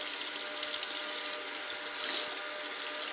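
Hot water running hard from a bathroom tap after a newly fired water heater ignites, a steady bright hiss of flowing water, close and continuous with no voices.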